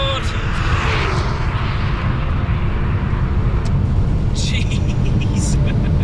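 An electric Porsche 911 (964) coupe accelerates hard, producing a loud, constant rush of wind and road roar. Excited voices break in over the noise.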